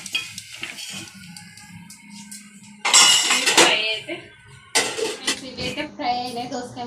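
Cucumber pieces and peanuts fry in a pan, giving a soft sizzle under clinking and scraping of a utensil against the pan, with louder bursts of stirring and metallic clatter partway through.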